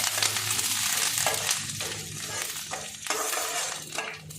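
Curry leaves crackle and sizzle loudly in hot oil in a pan, with a utensil scraping and stirring in irregular strokes through the continuous close frying hiss.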